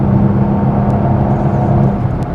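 A car launching hard from a standstill in a timed acceleration run on 87 or 93 octane fuel, its engine roaring loud and close in one steady, unbroken surge with no voices.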